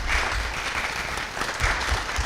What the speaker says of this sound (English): Get ready to clap again.